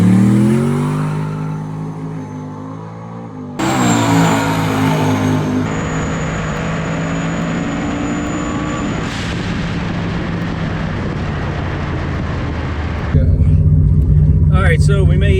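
A turbocharged pickup truck at a drag strip, a V6 turbo Syclone or AWD V8 turbo Colorado, roars through a pass: a loud engine climbs in pitch through gear changes, then gives way to heavy, rumbling wind-blasted noise near the end.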